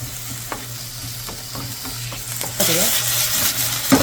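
Chunks of potato being stir-fried in a pan, steady sizzling with repeated scraping and stirring clatters, growing louder toward the end.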